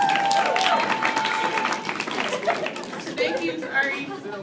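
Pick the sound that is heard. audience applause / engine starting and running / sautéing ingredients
audience applause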